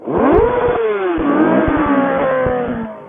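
A motorcycle engine revs hard and high to 17,000 RPM, its pitch climbing and wavering as it screams through the rev range, loud and close, with brief gear-change dips.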